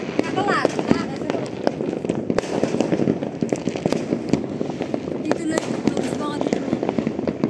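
New Year's Eve 2025 fireworks and firecrackers burst in a rapid, irregular barrage of loud, sharp cracks and pops throughout, with people talking in the background.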